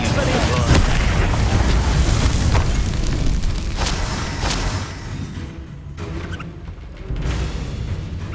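Confringo spell blasts during a duel in Hogwarts Legacy, a dense roaring wash of booms and rumbling impacts with crackling debris, loud and continuous, easing slightly before another burst near the end.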